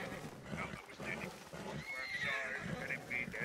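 A horse neighs and whinnies in a Red Dead roleplay game, with clip-clopping hooves nearby, the drawn-out whinny rising partway through beneath people talking.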